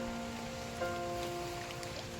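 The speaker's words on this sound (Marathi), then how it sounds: "किती पाऊस लागतोय बघा कोकणात" Soft, even monsoon rain hiss in Konkan fills the background beneath a steady low tonal hum, with no one speaking.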